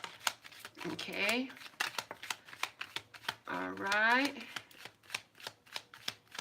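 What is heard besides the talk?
shuffling tarot cards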